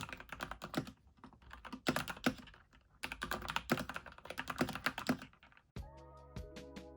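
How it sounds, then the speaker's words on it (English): Quick bursts of typing on the keyboard of an iPad 10th gen (2022), soft clacky keystrokes in dense rhythmic runs with short pauses, close and clear, and a different tonal sound at the very end. "I am obsessed with the typing sound the keyboard makes."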